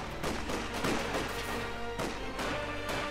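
Company of Heroes 2 gunfire in a 1v1 match, with several sharp shots and bursts. Rapid cracks and booming impacts follow one another over a dense battle background, fairly quiet overall.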